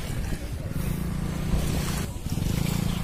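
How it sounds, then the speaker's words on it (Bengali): Small river waves wash against a broad, beach-like bank at sunset while a boat passes on the water, with a steady low rumble, an even wash and no voices. "ঢেউয়ের কত সুন্দর শব্দ"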